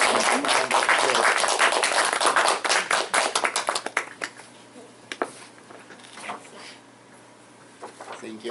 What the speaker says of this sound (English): Please give your round of applause.